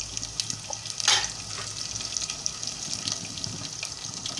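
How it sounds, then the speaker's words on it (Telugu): Ginger and onion pieces frying in a pan for tomato bath upma, a steady hissing sizzle with a louder burst near the start, close and without talk. "ఆనియన్స్ కాస్త వేగాలి"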